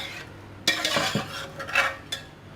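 A spoon stirs biryani ingredients in oil inside a metal pot, making a few sharp clinks and scraping strokes against the pan, close and fairly loud, with no voices.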